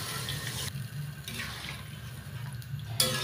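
Potato-boiling water is poured into a pot of potato and fish dal curry, a continuous splashing, gurgling stream close up, briefly easing then resuming.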